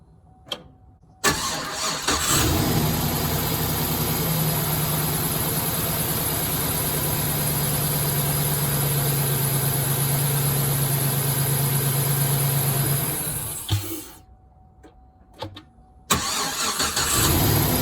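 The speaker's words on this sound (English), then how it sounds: "We'll go crank the engine" A 2008 GMC Sierra engine turns over and catches, then runs at a steady, loud idle for about twelve seconds before shutting off, followed by another start near the end.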